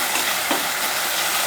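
Onions sautéing in a pan for salna give off a steady, dense sizzle with soft hissing and faint stirring throughout.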